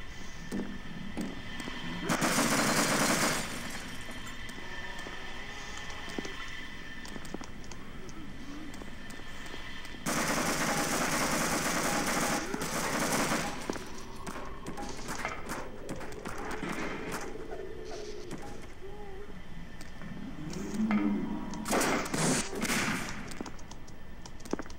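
Gunfire in a Garry's Mod horror map, loud broadband bursts of shots in clusters around the start, middle and end, with quieter game ambience between.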